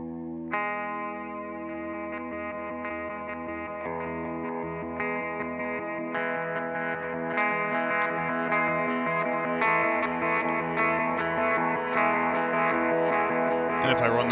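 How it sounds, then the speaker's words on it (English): Electric guitar run through a WMD Avalanche Run pedal set to reverse delay: sustained notes are followed by swelling, backward-sounding echoes that layer and thicken, the playing growing fuller and louder with bright stabs near the end. "the reverse delay algorithm on the avalanche run is insane"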